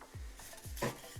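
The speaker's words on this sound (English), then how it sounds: "So I'm going to cut my pork steak" A knife cuts a pork steak into portions for Bulgarian kapama, giving a few short, close scraping strokes with a duller knock partway through and nothing else around them.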